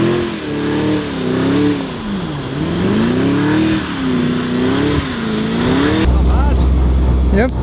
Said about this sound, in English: How well does my Urus Performante do donuts?